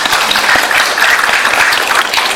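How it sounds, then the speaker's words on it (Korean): Dense, steady crowd applause at a political candidates' debate forum, loud and continuous with no one talking over it. "여러분 격려의 부탁 저는 박수를 부탁드립니다"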